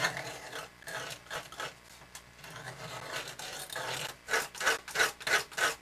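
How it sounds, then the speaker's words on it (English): Guitar-string tool on a wheel gouging and scraping wooden boards of a miniature barn diorama to weather them, heard as close, rhythmic rasping strokes that grow sharper and more regular near the end. "You're gouging in these boards a bit, just to give them some weathered look to them."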